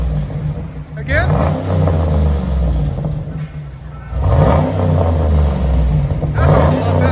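A 2012 GMC Sierra Denali's 6.2L V8 with a Carven TR-Series exhaust revs in loud, deep bursts with a rumbling idle between them, hitting the rev limiter, while someone talks over it.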